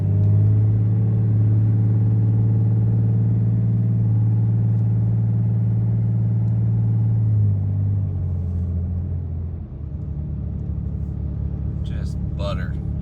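A RAM 3500 Cummins diesel pickup with a 68RFE transmission accelerating at half throttle, a deep steady engine drone close by that drops in pitch at a shift, then a lower rumble; a voice talks over it.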